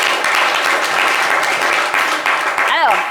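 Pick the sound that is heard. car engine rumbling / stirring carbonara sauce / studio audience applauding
studio audience applauding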